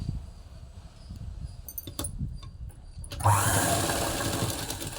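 Sewing machine stitching the fall onto a saree hem: light taps and rattles at first, then from about three seconds a steady, close, loud whirring run of stitching continues to the end.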